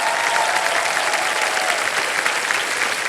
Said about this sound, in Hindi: तालियों के साथ इनका स्वागत किया जाए